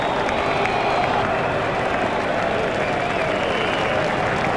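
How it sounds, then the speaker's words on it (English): A stadium crowd in the Cricket 07 video game claps steadily and densely for a batsman's half century during an England versus Australia match, a loud continuous wash of applause with no talk. "He deserves the applaud from the crowd today."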